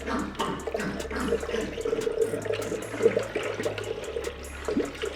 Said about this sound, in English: I start throwing some water in here. See if there's anything leaking